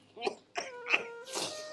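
An elderly man coughs in three or four short, rough bursts, close and fairly quiet, the last one breathier and trailing off.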